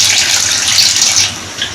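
About a kilogram of water gushes loudly and steadily into 1.5 kilograms of rice, soaked for an hour and a half, for a spiced biryani.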